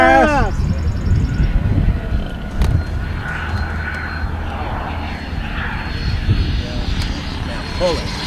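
A Freewing F/A-18C Hornet Blue Angels 90mm EDF radio-controlled jet makes a low pass over a runway at an airfield event, its ducted-fan whine swelling and fading over a steady roar while spectators talk and cheer nearby.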